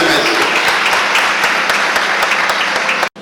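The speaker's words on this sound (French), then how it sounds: "Applaudissez plus fort, mesdames et messieurs." Loud, dense applause fills a School of Ministry graduation ceremony in Haiti, many hands clapping steadily until it cuts off abruptly near the end.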